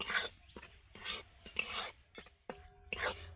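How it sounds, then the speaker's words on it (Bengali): Spoon scraping and stirring roasting flour and besan in a pan for shon papdi, repeated bursts of scraping strokes in a steady rhythm, close and moderately quiet, with no talking. "তবে কিন্তু অনবরত এইভাবে নাড়তে হবে"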